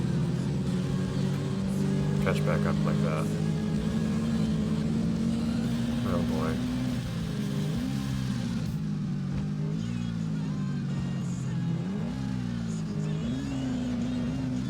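An ATV engine in ATV Offroad Fury 4 drones steadily and rises in pitch as it revs and strains uphill, continuous and close throughout, with someone talking over it.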